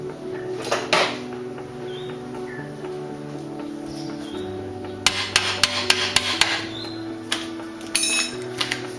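A Harley back wheel shaft is being hammered out, with sharp metallic strikes in two bursts, a couple near the start and a rapid series of close, loud blows midway, plus a few later, over a quiet workshop hum.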